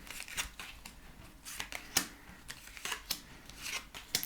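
Tarot cards being drawn and laid out one after another, a quiet run of soft paper slides, flicks and taps at an uneven pace, close by and with no talking.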